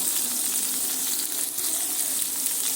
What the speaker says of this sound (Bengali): হলুদ গুঁড়া, লঙ্কা গুঁড়া আর নুন দিয়ে ভালো করে আমি এইভাবে একটু খুন্তি দিয়ে নেড়ে ছেড়ে বেগুনগুলো